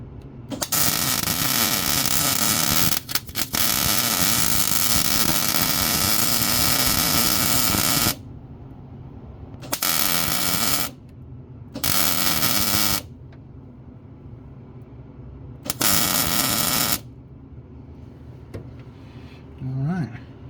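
Steel being welded onto a Jeep battery box: loud, crackling arc buzz runs steadily for about eight seconds, then returns in three shorter bursts separated by quiet pauses.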